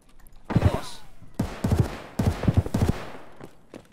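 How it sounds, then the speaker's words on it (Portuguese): Gunfire in the video game Escape from Tarkov: several sharp, close shots crack out in quick clusters over a few seconds, separated by brief pauses. "varou aqui o tiro"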